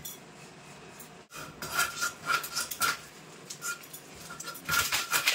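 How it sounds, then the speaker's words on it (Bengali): A knife cuts through a large scaled fish, sounding as close, rough scraping and rasping strokes in uneven bursts, with a sharp break early on and no voices. "এবার মাছটা কেটে নেব।"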